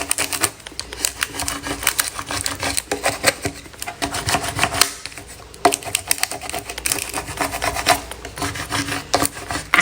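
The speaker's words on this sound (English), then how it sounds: "take the scraper, scrape it, and make sure it's on here." A scraper rubbing firmly over a transfer sheet on a glass tumbler, a close, continuous rasping scrub in quick repeated strokes with brief pauses, no talking.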